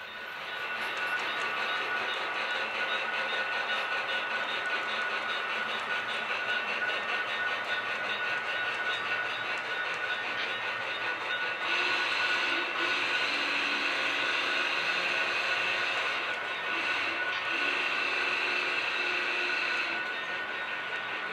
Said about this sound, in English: we can see now one engine going off the turntable going onto one of the service tracks.